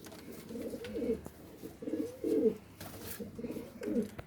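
Ferozpuri pigeons give soft, rolling coos nearby in a few repeated bursts, moderately loud over a quiet room background with no talk.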